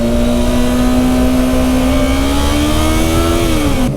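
A motorcycle engine revs loudly and steadily, its tone climbing slightly before dropping off near the end, with no voices.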